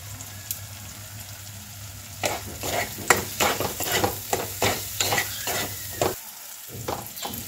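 Biryani masala with added water fries in a pan under a steady sizzle, while a spoon scrapes and stirs in a rapid series of close, sharp strokes, with a brief pause near the end and no voices.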